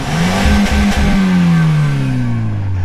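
Ford car engine and exhaust revving, heard from behind the vehicle: a loud, close rumble with a couple of throttle blips early on, then a long, steady descending drone as the revs drop.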